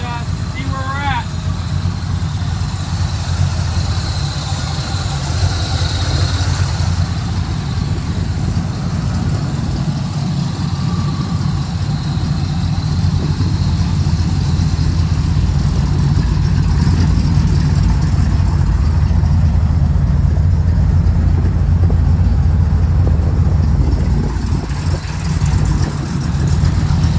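A 1985 Chevy Square Body truck engine idles steadily during carburetor tuning, a loud, continuous low rumble close by with a faint higher whine riding on top.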